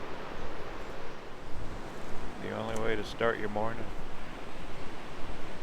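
Pacific Ocean surf washing in at low tide along a rocky coast, a steady broad hiss of waves that runs through the whole stretch, with a person speaking briefly in the middle.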